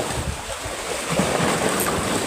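Ocean waves churning near a fishing spot, a continuous broadband wash of surf with wind buffeting the microphone, loud and close with no voices.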